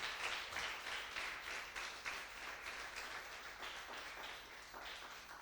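Church congregation applauding together during a Spanish-language service, a dense, steady wash of many hands clapping at moderate distance for several seconds, no voices over it.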